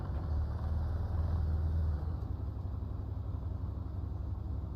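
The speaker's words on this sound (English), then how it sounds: "The dude's engine is so loud." A vehicle engine in a video game runs with a steady, close, low rumble that thins slightly partway through and then keeps droning evenly.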